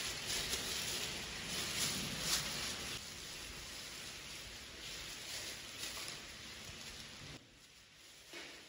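Rain pours down on a monsoon day, a dense, steady patter on surfaces at moderate distance, continuous throughout and easing slightly near the end, with no voices.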